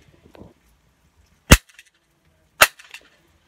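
A toy cap gun fires two sharp, loud cracks about a second apart, outdoors in the dark, with quiet rustling between the shots.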